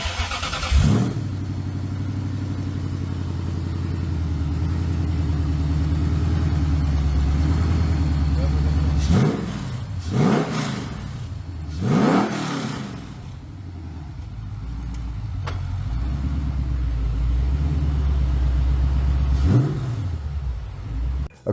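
A Ford GT40 replica's V8 cranks and fires, then idles with a deep steady rumble broken by several sharp throttle blips and revs, close by, with people talking over it.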